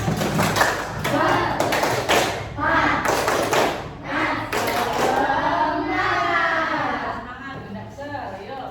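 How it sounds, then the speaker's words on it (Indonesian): A class of students claps out a rhythmic spirit clap, bursts of sharp, loud claps in patterned groups with pauses between, mixed with voices chanting along. "Sekarang yuk tepuk semangat."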